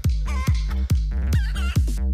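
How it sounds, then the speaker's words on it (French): Chicken clucks remixed over a pounding techno beat, with steady kick drums hitting about twice a second under looping hen calls, loud and continuous throughout. "C'est un mec qui a remixé avec des poules."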